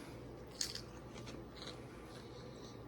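Crispy air-fried bacon bitten once, a sharp close crunch with a few brittle crackles after it, then quiet chewing over a low steady hum.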